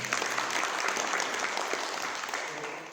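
Steady applause from a seated audience at a Kartik Mahatm katha religious gathering, dense and even, rising at first then slowly fading over a few seconds.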